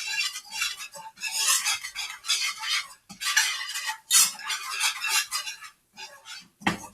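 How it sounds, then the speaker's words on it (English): A whisk scrapes and clatters steadily against a pan on the stove as a golden-brown macaroni and cheese mixture is stirred, with rapid rhythmic metal strokes and brief pauses, close and fairly loud with no talking. "whisking it up."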